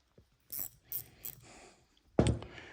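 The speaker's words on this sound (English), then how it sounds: "if you can get a ratcheting wrench in there, you can blast it out pretty quickly." A ratcheting wrench clicks in a few short bursts, three quick ratchet runs followed by a sharper, louder metallic click, close and otherwise quiet.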